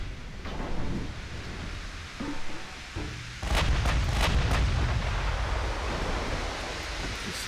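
Battleship gunfire in the naval game Ultimate Admiral Dreadnoughts, with Yamato and Iowa dueling: a rumbling ocean-and-wind bed gives way to a heavy boom, followed by several sharp cracking salvos over a sustained low roar.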